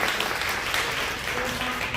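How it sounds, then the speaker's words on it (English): Audience at an education town hall claps for student ambassadors, a brief burst of dense, steady applause filling the room. "Let's give them a round of applause."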